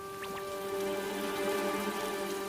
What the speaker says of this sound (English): Just then, some raindrops fell.